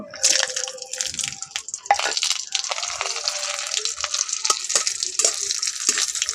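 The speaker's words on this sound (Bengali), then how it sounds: "ঘি আর তেলটা ভালো করে গরম করে নিয়েছি এর মধ্যে আমি এখন কাজু আর কিশমিশ নিয়েছি এটাকে এখন ভেজে নেব" Cashews and raisins fry in hot ghee and oil for jorda shemai, a steady close sizzle with a faint crackle and a few soft clicks of stirring, and no voices.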